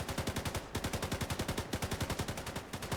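Sustained rapid automatic gunfire from a video game, an even, fast rattle of shots with no pauses, heard fairly loud and continuous throughout, with no speech.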